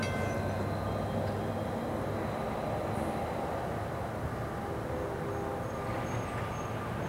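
Westbound Norfolk Southern freight train passing at night on the main line, a steady loud rumble of rolling wagons and wheels throughout, with no voices.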